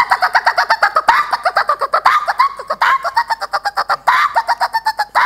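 A person's voice imitates the call of a cuckoo (koel) on a Marathi comedy stage, producing a quick series of bright, repeated whistling notes in rhythmic bursts, loud and close with no other talk.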